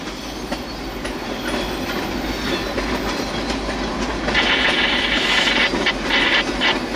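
A CSX coal train rumbles past close by, steady low roar with rhythmic clatter of wheels on rails, growing brighter and hissier toward the end.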